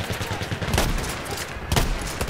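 Dense multiplayer gunfire in the World War I shooter Battlefield 1, a constant din of distant and nearby shots with a couple of louder bangs standing out, mixed with other battle noise.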